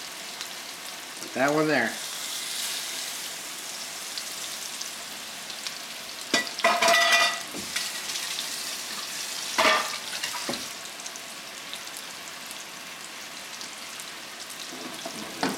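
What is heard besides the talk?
ahi tuna searing in a hot pan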